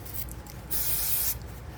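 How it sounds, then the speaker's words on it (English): A single short burst of spray from a can onto a paper towel, hissing for about half a second over a quiet background, fairly close. "and spray this guy down"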